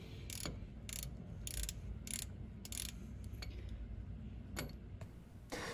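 A 24mm socket ratchet loosening the sump plug on an Austin A-Series engine: quiet, close clicking of the pawl in short bursts over a steady low background hum.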